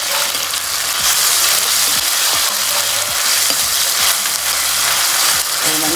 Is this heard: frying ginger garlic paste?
yes